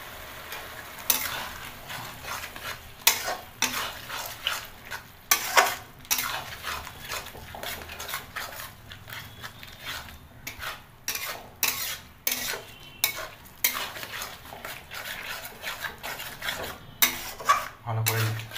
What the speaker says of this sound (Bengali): ভালো করে মিশিয়ে দিলাম।